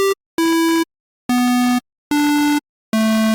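A tech house bass from the Serum synth, built on a basic analog oscillator shape, plays four loud, buzzy sustained notes after a brief blip, each separated by a short silence, with no talking.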